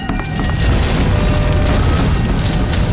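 A 4,400-pound propane tank exploding at a plant, heard as a loud, sustained roaring boom that fills the whole stretch without pause.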